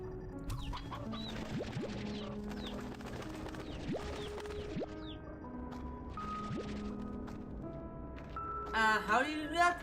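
Chickens cluck and coo repeatedly in a video game, a busy flock of bird calls at an even, moderate level. A voice-like sweep rises near the end.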